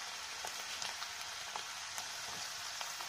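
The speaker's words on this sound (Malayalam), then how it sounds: "ഇനി അതുപോലെ നമുക്കിതിലേക്ക് ചെറുതായിട്ട് അരിഞ്ഞ് വെച്ചിരിക്കുന്ന ഇഞ്ചിയും കൂടെ ചേർത്ത് കൊടുക്കണം." Finely chopped ginger sautés in hot oil in a pan for Kerala-style lemon pickle, making a steady close sizzle with a few faint ticks and crackles and no talking.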